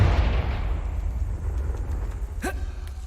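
In Hogwarts Legacy, a Confringo blasting spell goes off as a deep, rumbling explosion that rolls and fades, and a short sharp crackle rises near the end over the low boom.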